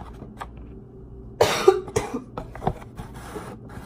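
One sharp, close cough bursts out, followed by a couple of smaller throaty coughs that trail off into quiet room sound.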